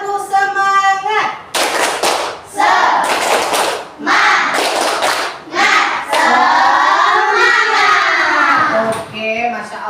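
A class of children performing the rhythmic 'tepuk semangat' clapping ice-breaker, loud close bursts of patterned hand claps alternating with chanting children's voices.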